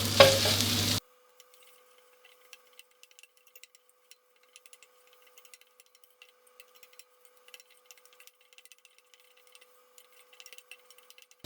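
Red curry paste stir-fried in a pan over medium heat gives a loud, brief sizzle, then drops to faint, sparse crackles and ticks.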